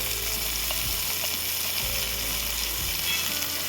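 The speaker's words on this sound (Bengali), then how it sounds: "তেলটা গরম হয়ে গিয়েছে এবার টমেটোগুলোকে আমি দিয়ে দেবো এর সাথে আমি দেবো রসুন" Tomatoes and garlic fry in hot oil for a tomato bharta, with a steady close sizzle and faint scraping clicks from stirring, and no voices.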